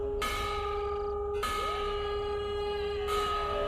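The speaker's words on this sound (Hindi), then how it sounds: "इतनी रात को मंदिर की घंटियां कौन बजा रहा है?" Temple bells ring at night, sounding three resonant, reverberant strikes spaced about a second and a half apart, each leaving a long humming tail over a low background rumble.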